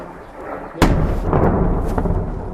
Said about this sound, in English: We just heard an enormous explosion here towards the north of where we're standing.